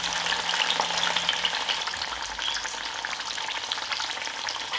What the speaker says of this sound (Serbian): Nakon nekoliko minuta okrećem meso na drugu stranu i pršim dok ne uhvati ovako finu koricu.